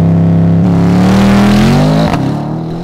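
A Bentley S with a retuned Porsche 8-speed PDK launches hard, its engine note climbing loudly in pitch, then a quick gear shift and a continued pull.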